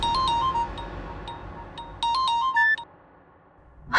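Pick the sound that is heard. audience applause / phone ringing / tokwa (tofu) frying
phone ringing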